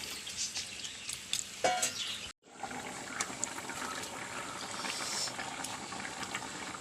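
Egg curry with coconut milk simmers in a pot, a soft continuous bubbling with small pops and burbles, close and quiet, with a brief clatter and a short break partway through; no talk.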